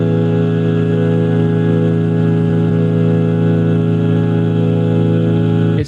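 A vocal ensemble holds a tuned A major 9 chord with stacked ninth and major seventh, a dense, steady, loud sustained harmony ringing without a break for several seconds.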